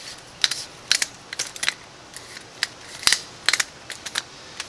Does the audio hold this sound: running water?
no